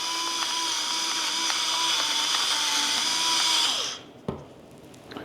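A salt dispenser grinds salt, a steady close-up mechanical whirring rasp that runs for about four seconds and then stops abruptly, followed by a faint knock.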